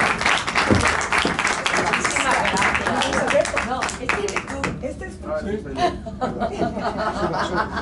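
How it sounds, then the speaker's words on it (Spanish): An audience applauds at an award ceremony in the Casino de la Gran Vía in Madrid, with a dense burst of clapping mixed with chuckles and chatter that thins out toward the end while voices keep talking. "Un fuerte aplauso para ellos."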